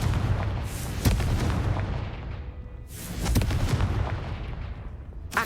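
A Confringo fire-blast spell cast in the Hogwarts Legacy game: two loud booming explosive bursts a couple of seconds apart, each trailing off in a rumbling decay, with a sharp pop at the very end.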